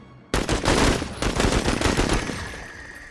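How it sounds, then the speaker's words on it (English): Gunfire from the video game Menace bursts in abruptly after a brief quiet moment, a dense rattling volley of rapid shots that stays loud and continuous before easing slightly toward the end. "Let's go ahead and deploy and start taking shots."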